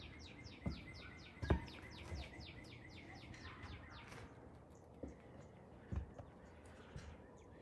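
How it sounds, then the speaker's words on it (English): Birds in a quiet residential neighbourhood with big trees: a rapid series of high chirps early on, then sparse scattered calls over faint outdoor ambience, with a few soft knocks or footsteps and no traffic noise. "You can hear the birds."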